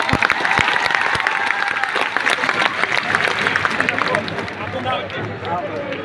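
A crowd claps at a large Thakor community convention, dense rapid applause with a few sharp claps up close and background voices, tapering slightly toward the end.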